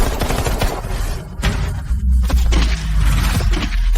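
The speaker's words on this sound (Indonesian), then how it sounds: "Anak ini tidak beres, cepat tembak." Gunfire in an action drama scene, a loud dense burst of rapid shots and impacts with heavy low thumps, continuous and close throughout.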